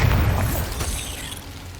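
Bombarda blasting spell from the Hogwarts Legacy video game: a single heavy, booming explosion up close, with a deep low rumble that slowly fades over two seconds, no voices.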